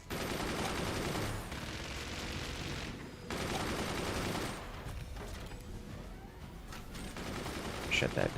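Friendly gunfire pounds a player's fort in the strategy game Forts, a dense, continuous barrage of loud shots and impacts that pauses briefly and resumes, with quieter clatter toward the end.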